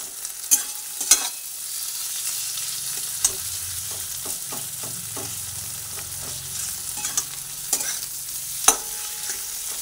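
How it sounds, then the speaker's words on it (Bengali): Potato filling for stuffed pointed gourd fries on a low gas flame in a pan, giving a steady close sizzle broken by scattered spatula scrapes and taps. "গ্যাসের ফ্লেমটা একটু কমিয়ে রেখে আবার ভালোভাবে ব্যবহার করে পুরো আলুটাকে ভেজে নিচ্ছি।"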